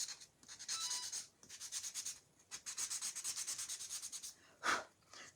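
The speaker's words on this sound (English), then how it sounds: "I am going to give this a little" Sandpaper rubbing over a small wooden craft piece in repeated short back-and-forth strokes, close and fairly quiet, with brief pauses between bursts.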